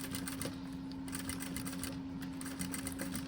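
A sewing machine stitches fabric for an Easter zippered pouch, a fast steady mechanical needle rattle with a constant motor hum, close and uninterrupted.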